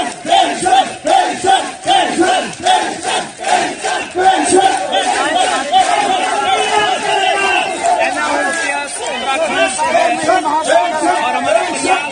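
A large crowd at an old pension scheme protest rally chants and shouts in loud rhythmic bursts, then settles into dense continuous roaring and hubbub.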